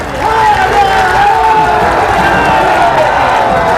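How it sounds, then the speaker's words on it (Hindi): Loud, continuous crowd noise at a political rally in Bengal, applause and cheering mixed with shouting voices, sustained and dense throughout with no gaps. "ताली की आवाज बंगाल के धरती पर गूंजना चाहिए मित्रों"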